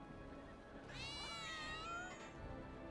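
Cats in Final Fantasy VII Remake give one drawn-out, wavering meow, faint and mid-distance, over a steady background hum of game ambience with no voices.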